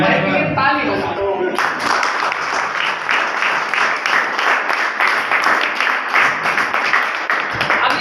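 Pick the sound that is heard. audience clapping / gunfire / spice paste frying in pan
audience clapping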